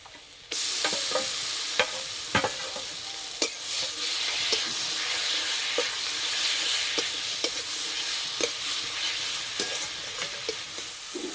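Ground flat beans hit a hot pan and sizzle steadily, with a spatula scraping and stirring in sharp repeated clicks over the continuous frying hiss, close and clear without talk.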